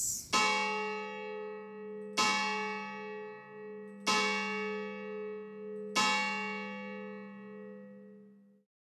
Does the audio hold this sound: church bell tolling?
yes